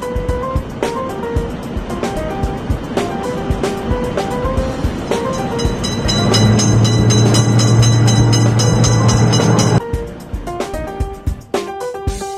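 A cartoon train rumbles past a railroad crossing in a children's video game, with a loud rolling clatter building midway beneath chiming bell tones and bright game jingles, then cutting off into quick electronic blips.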